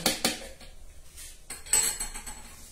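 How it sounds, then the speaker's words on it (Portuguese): A utensil beats chocolate cake batter (nega maluca) in a bowl, making quick scraping strokes and sharp clinks against the bowl, close up, with no talking. "E a gente vai bater na nossa massa."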